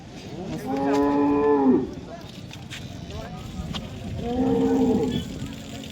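A calm cow at a cattle market lets out two loud, close moos a few seconds apart, with background market noise between them.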